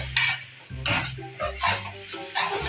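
Instant noodles stir-fried in a pan, a utensil scraping and clanking against the metal in irregular bursts of metallic scrapes and taps, fairly close, with no voices.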